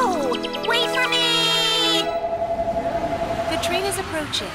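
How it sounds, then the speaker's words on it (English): A subway train approaches a platform, its rumbling, rattling roar rising after a stretch of bright, tonal sound with a voice, while a high whine carries through near and loud. "The train is approaching."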